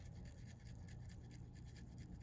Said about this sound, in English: you want to hold the toothbrush at a vertical direction, doing the same 9 to 10 vibratory motions.